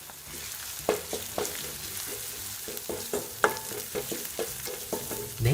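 Chili flakes being stirred into potatoes and sprats frying in oil, a steady close sizzle broken by regular scraping and clinking strokes of a spoon in the pan.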